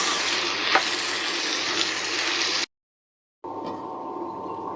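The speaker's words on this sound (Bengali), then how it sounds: "2-3 মিনিট আমি ঢেকে এটা রান্না করছি।" Potatoes with turmeric frying in a covered pan for a Bihari-style aloo bhujia, giving a steady close sizzle with a faint stir, a brief silent gap, then a quieter, more muffled sizzle.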